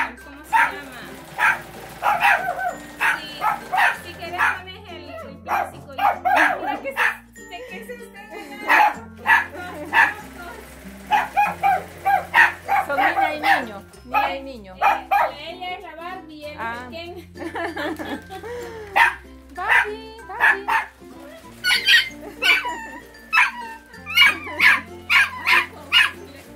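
Puppies bark repeatedly in sharp, yipping bursts throughout, close and loud, with occasional whimpers mixed in while people talk over them.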